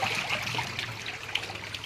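Running water trickles and splashes steadily in an outdoor setting, a close, continuous bright gurgling flow with no voices over it.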